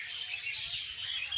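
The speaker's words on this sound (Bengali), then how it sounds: "পাখিদের গুঞ্জন শোনানোর চেষ্টা করি।" Birds chirp in the trees of a rural village, brief high tweets layered into a soft steady chatter at moderate distance, with no voices.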